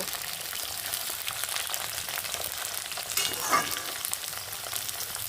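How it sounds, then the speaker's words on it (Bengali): Drumstick stalks frying lightly in a pan with potato, a steady broadband sizzle running throughout with a brief louder spatter midway, close and continuous, no voices. "সজনের ডাটাগুলি এটাও এর সঙ্গে একটু ভেজে নেব"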